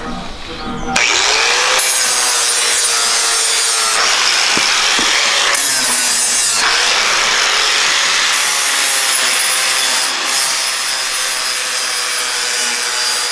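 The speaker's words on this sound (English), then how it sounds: "We just grinding the plates, cleaning them up a little bit, getting them ready to weld" An angle grinder works steel floor plates before welding, giving a loud, continuous abrasive whine with brief cuts and restarts, close by and with no one talking.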